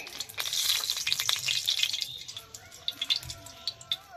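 Oil goes into a hot wok over a village stove. A bright, crackling hiss rises at the start, along with watery splashing and drips. It then thins out into scattered pops and ticks.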